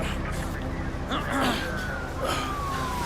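A wailing police siren sweeps up and down in the distance beneath continuous voices and street noise.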